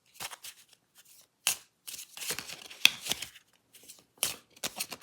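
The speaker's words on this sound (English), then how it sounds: "And then we'll do a mild shuffle once again." A deck of wargame cards for Enemy Action Ardennes gets a mild shuffle, with close, crisp bursts of riffling and sliding paper in quick irregular runs separated by brief pauses.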